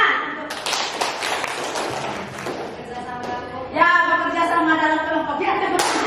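Primary school pupils clap their hands in a classroom, with scattered sharp claps and taps early on, followed by children's voices speaking together over fading claps.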